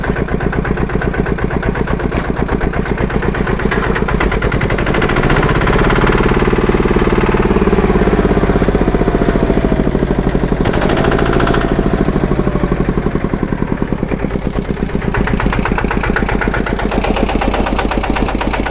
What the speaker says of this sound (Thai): มาดูเขาปั่นท้ายพีดีโอนะครับ